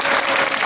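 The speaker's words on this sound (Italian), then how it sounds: "e mo fatevi un applauso" An audience claps at a school event, a short loud burst of dense applause.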